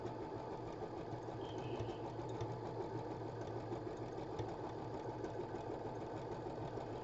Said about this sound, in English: It's just sewing stuff together.